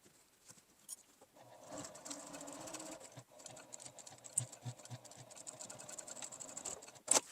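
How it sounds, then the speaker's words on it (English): A sewing machine stitches a 3/8-inch seam on upcycled fabric, starting after a short pause and running as a fast, even mechanical whir-and-tap rhythm, close and moderately quiet, broken briefly in the middle before continuing to the end. "I'm going to sew 3/8 of an inch seam allowance, so the stitches will go exactly over those stitching lines"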